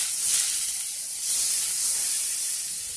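Butter sizzles in a hot pan while bread and egg are being cooked, giving a steady, bright hiss that swells slightly midway and carries on alone without talk.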